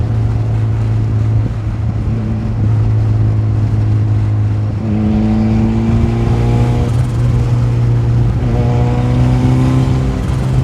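A car engine fitted with a large turbo revs up repeatedly, rising harmonic whine climbing in steps over a steady loud drone, sustained and close with no speech.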